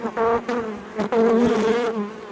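Honeybees buzzing around an open beehive, a loud close droning hum that swells and dips as bees pass near, steady for a couple of seconds with no talk.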